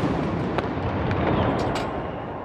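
Ceremonial artillery salute guns firing at a presidential inauguration, a dense, sustained roar of booming blasts and rumble that fills the whole stretch without a break.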